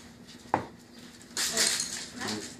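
An egg is cracked into a mixing bowl of cheesecake batter in a home kitchen: a single crisp tap on the rim, followed a moment later by a longer wet, rustling spill of shell and egg into the bowl.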